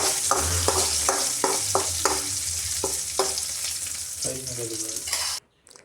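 Curry leaves frying in hot oil for a chickpea curry while being stirred, a steady sizzle with rhythmic spoon scrapes against the pan, then an abrupt stop near the end.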